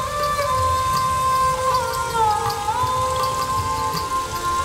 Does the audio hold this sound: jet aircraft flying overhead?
no